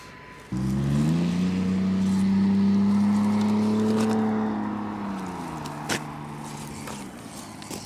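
A Panda Hobby Tetra X1T mini RC crawler drifts. Its small electric motor whines up sharply, holds a rising pitch for a few seconds, then eases off, with a brief clatter near the end.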